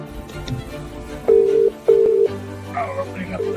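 Telephone keypad tones beep in two steady, sustained bursts, followed by a low hum and faint line noise as a call connects on a radio phone-in line.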